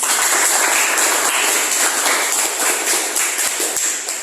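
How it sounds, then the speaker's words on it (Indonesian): A classroom of students gives a round of applause, a dense, close clatter of many hands that keeps going steadily and eases slightly toward the end. "Tepuk tangan untuk kita semua."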